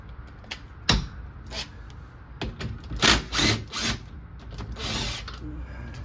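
Ratchet wrench loosening bolts to remove the old strut from a Mazda RX7 during a coilover install; several close, short bursts of rapid clicking with pauses between them.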